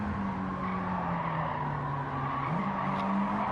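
A car drifts through a corner in a racing video game, its engine droning steadily while a sustained tire squeal runs underneath, shifting pitch partway through and continuing without pause.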